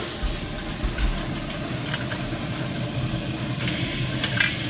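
Bone-in center-cut pork chops searing on very hot grates of a Pit Boss Laredo 1000 grill at around 550 degrees, a steady close sizzle with a low rumble and a few soft clicks.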